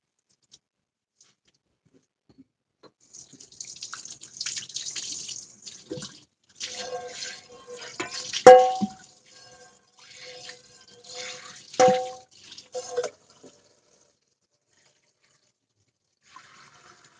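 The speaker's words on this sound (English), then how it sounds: "I'm just washing the pan real quick. Some warm soap water." Warm soapy water splashing and trickling as a pan is washed at a kitchen sink, coming in a few short bursts of running and dripping water with quiet pauses between, close by and fairly soft.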